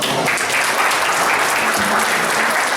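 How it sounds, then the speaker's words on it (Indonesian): A seminar audience in Bandung applauding for a doctor, with loud, dense, continuous clapping from many hands that fills the whole moment, close and sustained. "Berikan tepuk tangan yang meriah sekali lagi untuk dokter"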